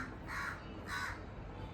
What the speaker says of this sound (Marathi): कावळा कसा करतोय बरं.